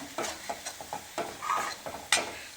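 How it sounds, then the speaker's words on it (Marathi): A spoon stirs red chilli powder, turmeric and coriander powder in a pan while making hadga flower bhaji, with a series of short scraping and tapping strokes, some with a faint sizzle, spaced irregularly and heard up close. "आता हे सगळं छान मिक्स करून घेऊया"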